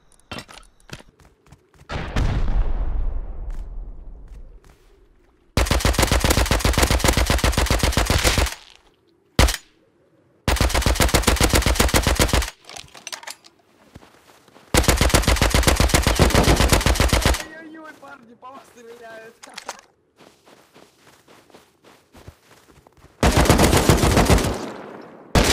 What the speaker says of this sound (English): There is a turret.